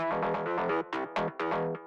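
One layer of an EBM techno mid-range synth bass plays alone: a quick, loud series of bright, buzzy notes in a tight repeating pattern, with a few brief gaps between phrases.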